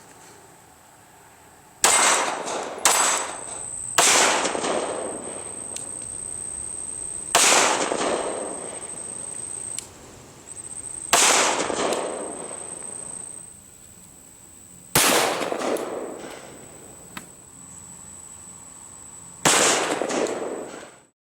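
A Glock 21 SF Gen 3 pistol fires Hornady Critical Duty 220 gr +P .45 ACP rounds outdoors: six loud, sharp single shots spaced a few seconds apart, each trailing off in echo, with a steady insect-like whine behind.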